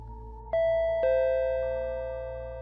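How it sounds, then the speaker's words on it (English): A front-door chime rings with two clear electronic tones struck in quick succession, each sustaining and slowly fading in a quiet room, close and alone. "the door chime rang again."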